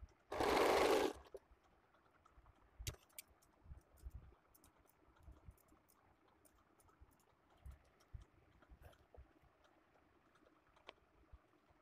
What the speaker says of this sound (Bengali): আমি এদিক থেকে সেলাই করবো